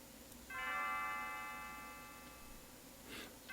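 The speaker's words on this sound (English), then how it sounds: "Dear me, I'd forgotten how beautiful Lean's bell sounds." Leene's bell in Chrono Trigger rings once with a clear, sustained chime that slowly decays over a few seconds, ringing out alone against quiet background ambience.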